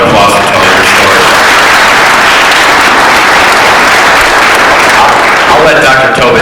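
A community forum audience on opioids and heroin breaks into loud, sustained applause that fills the room steadily, with a few voices mixed into the clapping.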